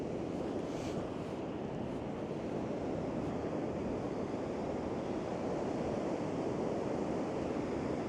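Waves break and wash continuously in the surf along a shoreline while shore fishing for cod among kelp, a steady, fairly close roar with some wind buffeting and no talking.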